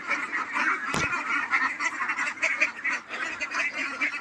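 A flock of ducks on a duck farm, being led to water, quacks and honks continuously nearby, overlapping calls forming a busy, noisy chorus with one sharp knock early on.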